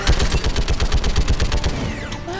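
A mounted turret fires in the Mass Effect 3 video game, a loud, close, rapid stream of evenly spaced shots that runs for about two seconds before trailing off.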